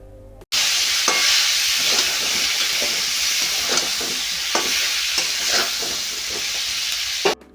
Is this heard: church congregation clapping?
no